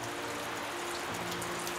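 Heavy rain pours steadily at a campsite during a downpour, a dense continuous hiss of drops with no pauses.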